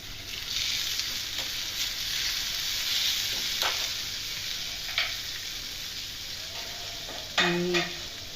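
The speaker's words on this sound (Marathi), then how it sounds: "आणि त्यामध्ये जाणार कोथिंबीर, आणि ती पण परतून घ्यायची" Coriander sautéing in masala for a fresh cowpea curry, a continuous sizzle with scraping stir strokes and a few sharper clinks of the spoon against the pan near the end.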